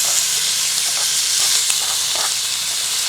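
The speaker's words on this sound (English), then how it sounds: "Now I'm just going to add the bacon in" Bacon sizzling in a hot cast-iron camp oven beside butter, a loud continuous hiss and crackle close up with faint stirring, no voices.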